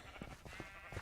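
A few soft sheep bleats in a survival video game come close together, faint and with no talk over them.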